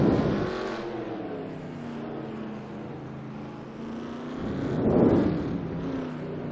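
Race cars accelerate in a racing video game during an Indy GP race, with engine tones rising and falling and a louder revving swell near the end, continuous and without talking.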